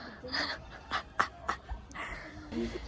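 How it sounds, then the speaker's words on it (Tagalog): Dog in Baguio City panting close by in quick, rhythmic breathy bursts, with faint voices in the background. "Nakabidyo ko aso"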